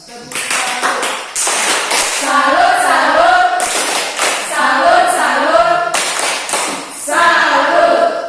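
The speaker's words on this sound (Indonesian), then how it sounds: "Coba tepuk tangan." Students in a classroom lesson on hydrostatic pressure clap their hands in short bursts, with sharp claps broken up by pauses, while children's voices and chatter rise between the rounds.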